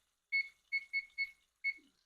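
A kitchen timer beeps as it is set for cooking onions, five short, bright electronic chirps in an uneven sequence, close and clear in otherwise near silence.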